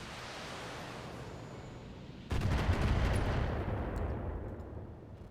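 Missile impacts strike a mech in the BattleTech video game, a sudden loud burst of booming explosion noise that erupts partway through and rumbles on, slowly fading, after a quieter steady battle ambience.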